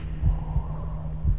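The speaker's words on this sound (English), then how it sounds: "I don't like the heart beating." Heartbeat from the Little Nightmares 2 video game: low, throbbing thumps, about three in a second and a half, over a steady droning hum.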